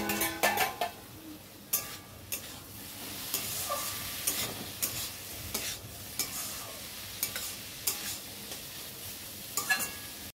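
Bitter gourd and potatoes frying in a pan, with a steady sizzle and repeated scraping stirs and clinks of a utensil against the metal throughout.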